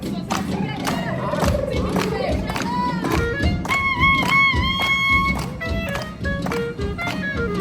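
A theme park audience at the grand opening of Universal Epic Universe claps rhythmically in a noisy, cheering crowd, with whoops and shouts rising over steady hand claps throughout.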